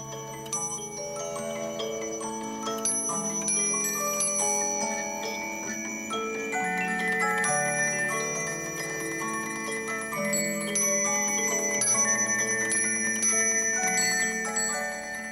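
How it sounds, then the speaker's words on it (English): A cylinder music box with bells inside, once owned by Theodore Roosevelt, plays a steady tinkling melody of plucked comb notes and chiming bells, clear and close throughout with no voices. "this Bells Inside cylinder music box from the collection of Theodore Roosevelt"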